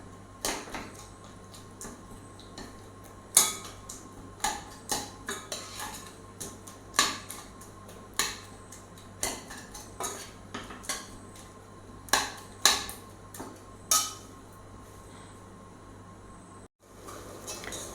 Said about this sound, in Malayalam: അത് നമുക്ക് പതുക്കെ ഒന്ന് ഉടച്ചു കൊടുക്കാം.